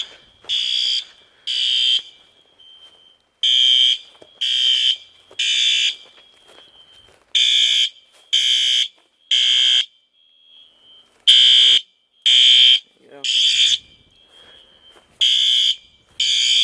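A P2W-HK fire alarm horn blares during a system test in repeated loud bursts, about a dozen short pulses with brief gaps, each carrying a shrill tone, with no talking.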